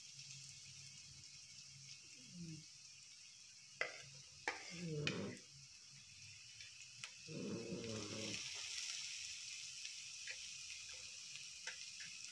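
Finely chopped onion fries on a gas stove until reddish, a faint low sizzle broken by a few sharp spatula knocks and scrapes in an otherwise quiet kitchen.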